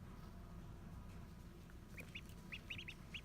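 Baby ducks give soft, high, peeping quacks in short scattered calls. They sit faint against a low steady background hum during stormy weather.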